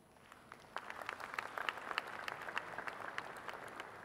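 Faint, scattered applause from a conference audience rises after a quiet start into light, uneven clapping that continues thinly throughout, heard from a distance.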